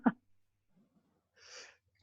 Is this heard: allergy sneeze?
yes